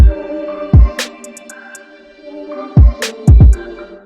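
Heavy, booming boosted bass hits in an FL Studio beat thump through a sparse pattern, loud and punchy, with crisp hi-hat and snare accents between the low drops.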